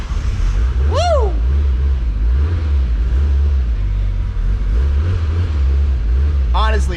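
Loud tuned car engine holding a deep, steady rumble at close range, with two brief rising rev blips, one early and one near the end.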